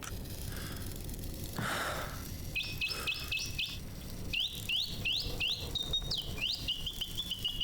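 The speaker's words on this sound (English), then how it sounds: "here is a dove." A dove calls in the video game Ad Infinitum, a series of repeated chirping, warbling notes in short bursts over steady ambient game noise.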